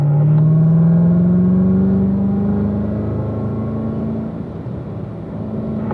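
A car accelerates on the Spring Mountain race track, its engine a loud, close drone whose pitch climbs smoothly before easing slightly as the car pulls away.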